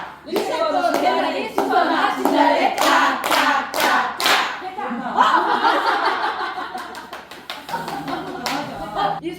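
Rhythmic hand clapping from a group doing a finger-play cognitive exercise at a small community library, sharp repeated claps mixed with chatter and laughter.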